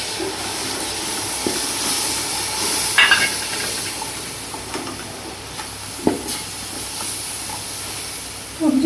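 Tomato paste sizzles in a cooking pot with a steady soft hiss, broken by a few faint clinks and stirring scrapes.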